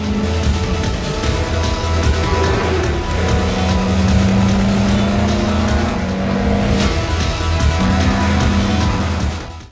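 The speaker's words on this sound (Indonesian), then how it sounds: "Tanpa aba-aba, Tatsuya dan Akio langsung menggaspol mobil mereka masing-masing" Street racing cars roar as they accelerate hard in a Japanese film, engines loud and close with rising and shifting pitches, gear changes breaking the drone as they speed off together.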